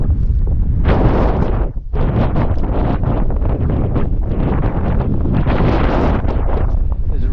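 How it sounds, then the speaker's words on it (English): Strong wind on the exposed slopes of Mynydd Parys, North Wales, buffets the microphone in a continuous loud roar, gusting throughout with only a brief lull near the start. "it's become very windy again"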